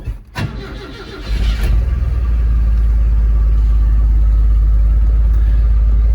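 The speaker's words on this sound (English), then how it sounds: "One pump on the throttle, turn the key, and she idles." A Datsun engine cranks briefly after one throttle pump, catches around the one-second mark and settles into a loud, steady low rumbling idle, close up with no talk.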